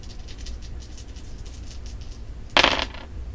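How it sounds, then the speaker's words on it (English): Several dice tossed together for a divination reading land in one short, bright clatter near the end, close and alone against a faint background hiss. "let's go ahead and roll the dice to get a little bit more information"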